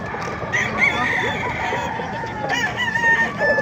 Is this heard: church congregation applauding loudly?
no